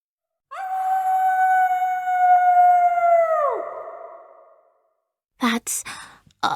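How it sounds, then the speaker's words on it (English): A long, mournful wolf-like howl rises and slowly falls away, then a few sharp, noisy bursts follow after a short silence. "he heard a horrible howl."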